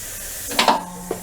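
Air hissing into a car tire on a rim on an Atlas TC 589 tire changer, steady background hiss with a couple of brief louder bursts, close and fairly loud.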